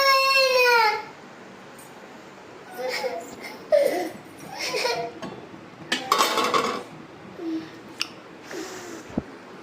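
A small child cries and sobs for curry (kuzhambu) at a meal, wailing in broken bursts between an adult's coaxing voice, with light clinks of dishes and cutlery close by.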